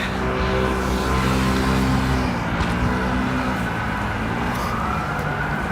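Police escort sirens accompanying Hanukkah mitzvah tanks through Midtown Manhattan on a December evening, wailing steadily over dense street traffic noise, fairly loud and continuous throughout.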